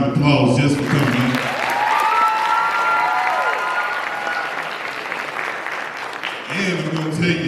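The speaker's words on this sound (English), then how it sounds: "give them a round of applause just for coming" A crowd at a 2023 Black History Month program claps steadily for the people on stage, dense continuous applause with a few voices and brief cheers rising over it, tapering slightly near the end.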